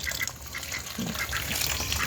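A flock of ducks quacking together near water, a busy continuous chorus of overlapping calls.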